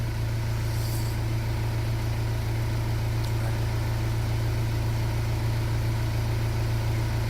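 A restored Audi A4 idling with no exhaust fitted, giving a steady, loud low engine drone that holds constant throughout with no talk.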